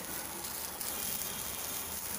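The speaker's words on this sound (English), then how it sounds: "I'm going to now saute it for just about 2 minutes and then put off the gas." Dried coconut masala sautéing in a pan on a gas stove, a faint, steady broadband sizzle with no break and no voices.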